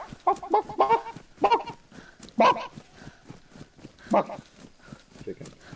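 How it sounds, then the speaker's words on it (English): A chicken in a video game clucks in several short bursts, fairly close and moderately loud, with people talking over it. "That new chicken sounds amazing."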